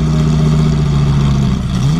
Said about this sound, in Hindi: बाइक स्टार्ट कर वहां से निकलने लगता